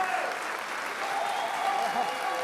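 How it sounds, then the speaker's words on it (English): Audience applause at a medical school commencement ceremony, a steady, moderately loud wash of clapping from a large crowd, with voices mixed in. "And I'm clapping too."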